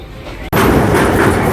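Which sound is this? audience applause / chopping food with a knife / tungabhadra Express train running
tungabhadra Express train running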